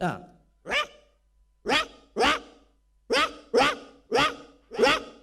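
A voice imitates a poor household's dog barking in a comedy stage show, giving eight loud, close, separate barks in an uneven rhythm with short gaps between them.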